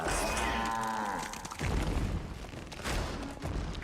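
Robots in the Metal Gear Solid video game moo like cows in a drawn-out, wavering call, followed by a burst of rapid gunfire and booming game effects.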